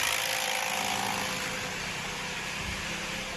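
A Toyota 1JZ-GE car engine running rough and misfiring with a knock, heard as a steady, dense mechanical roar up close with no talking.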